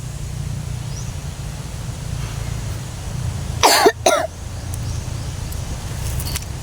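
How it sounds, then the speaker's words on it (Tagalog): A couple of short, sharp coughs burst out midway over a steady low hum of traffic, otherwise quiet background. "Umubo, ano? Umubo."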